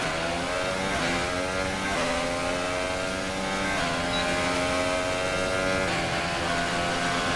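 Formula One race car engines roar in the F1 2018 video game at the United States Grand Prix, a Williams car revving high and dropping with each gear shift in a steady, loud, continuous drone.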